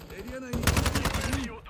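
Rapid automatic fire from a TR-76 rifle in Call of Duty MWII, a burst of sharp regular shots over about a second, loud and close, with faint game sounds and a voice before it.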